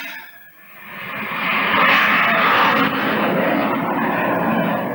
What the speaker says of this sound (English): I said we seem to be on the flight path again today. I wonder who was in that plane.